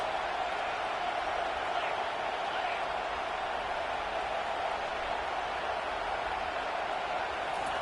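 Stadium crowd noise in the NCAA Football video game: a steady, distant roar of a large crowd, moderately quiet and unbroken from start to finish.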